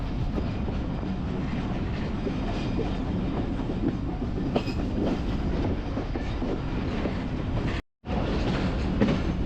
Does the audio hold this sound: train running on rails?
yes